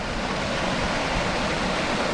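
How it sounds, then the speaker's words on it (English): A wilderness waterfall gives a dense, steady roar of rushing water, close and fairly loud throughout, with no voices. "Nice waterfall here."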